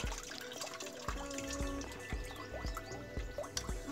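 Water splashes and drips in a small child's play setting, bathing a doll; irregular trickling and dripping sounds continue steadily close by with no talking.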